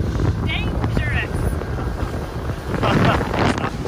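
Heavy wind buffets the microphone in a constant roar, with faint squeaky sounds and a voice briefly heard beneath the gusts.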